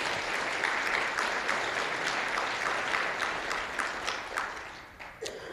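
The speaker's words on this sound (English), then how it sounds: "Please, let's applaud her." An audience at a programming-languages conference applauds the conference manager, a dense, steady roar of clapping that carries on for several seconds before thinning out near the end.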